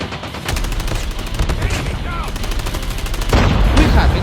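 Gunfire in a shooting video game comes as rapid bursts of loud, close automatic shots in quick repeated volleys, with a heavier thump near the end.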